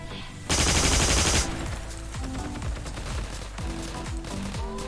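Heavy M2 machine gun fire in the Heroes & Generals shooter: a loud continuous burst of rapid shots for about a second, then scattered distant gunfire and impacts continuing in the background.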